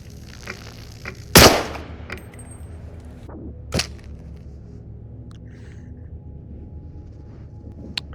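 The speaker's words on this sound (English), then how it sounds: "This is the Soviet World War II era pistol." A single sharp report from a Soviet WWII-era pistol in a video game, followed by a second quieter shot and faint metallic clicks against near silence.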